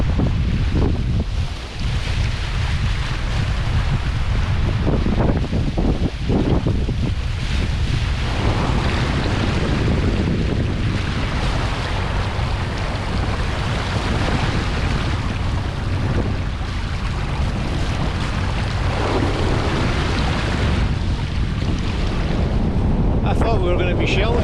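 Strong 25-knot wind buffets the microphone aboard a 38-foot sailboat off the Isle of Arran, Scotland, with waves rushing and slapping the hull in a constant loud roar.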